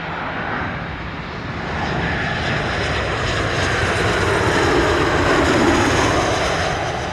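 A Delta airliner landing at Montego Bay airport gives a loud, broad engine roar that swells gradually and stays strong and close, alone without talk.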